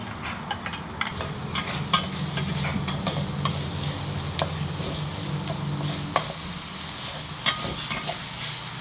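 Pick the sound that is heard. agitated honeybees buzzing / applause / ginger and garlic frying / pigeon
ginger and garlic frying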